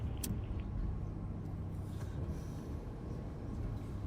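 Steady car interior road noise with a low engine and tyre rumble, continuous and fairly loud throughout, with no voices.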